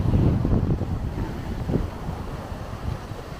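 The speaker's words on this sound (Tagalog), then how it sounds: "Ang lamig sa parting ito. Kasi, mahangin." Wind on a Maldives local island, Dhigurah, after a storm, a steady loud rumble of gusts buffeting the microphone with a faint wash of surf underneath, no talking.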